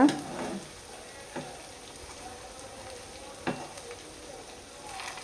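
Potato chilli balls frying in a small amount of oil as the pan is shaken, a soft steady sizzle with a couple of light knocks and shuffles from the pan.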